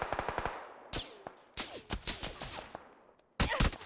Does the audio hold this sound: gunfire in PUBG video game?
yes